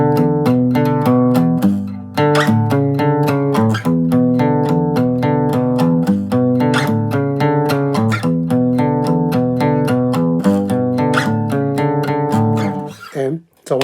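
Fingerpicked guitar intro, a continuous arpeggiated chord pattern with ringing bass and treble notes, played close and fairly loud, alone without speech, ending with a brief muffled stop.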